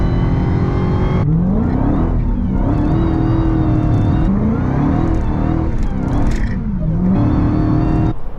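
A Hellcat-swapped Chrysler 300 sliding in Mexico, its engine revving hard and loud up and down in waves, with screeching tires and whine from close by.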